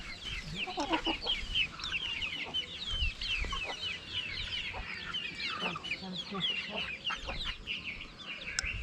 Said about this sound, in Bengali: অনেকগুলো মুরগি আছে